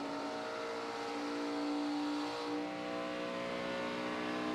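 Race cars at the start of the 2013 Daytona 500 build speed from pace-car pace, a dense sustained engine roar with a rising pitch, heard from a distance as a steady wall of sound.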